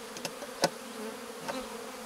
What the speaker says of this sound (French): Et là on voit bien les abeilles qui se dirigent dessus.